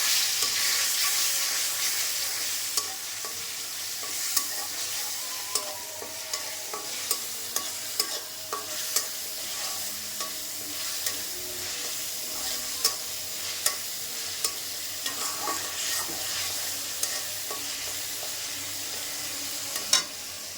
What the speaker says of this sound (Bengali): তেজপাতা দিয়ে দিলাম, পেঁয়াজ রসুন আদা দিয়ে দিলাম তেলে।